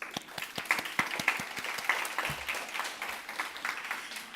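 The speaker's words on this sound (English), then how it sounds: "Please give them another round of applause for those who gave speech today." Audience applause for contestants at a 2024 English speaking contest in Ulsan, a dense, steady patter of many hands clapping at moderate volume, sustained without a break and with no talk over it.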